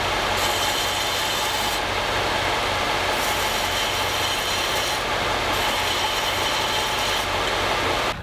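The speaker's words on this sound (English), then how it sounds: "There's a faster way. Belt grinder to the rescue." A belt grinder bevels the edge of a wooden piece for a clock made from a broken guitar. The loud, continuous abrasive rasping and grinding runs steadily, with the pitch and texture shifting as the wood is pressed and moved.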